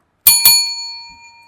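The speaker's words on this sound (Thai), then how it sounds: "อย่าลืมกดกระดิ่งแจ้งเตือนด้วยนะคะ" A bright notification bell sound effect rings twice in quick succession, each metallic ding sustaining a clear ringing tone that slowly fades to quiet, with no talk over it.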